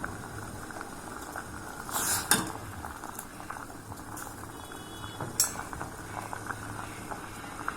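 Broccoli soup boiling in a cooking pot, a soft steady bubbling bed with a few sharp metallic clinks of a utensil against the pot.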